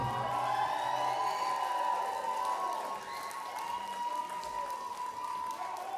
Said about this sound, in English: I want everybody to give a round of applause to this man, Mr. David Arnold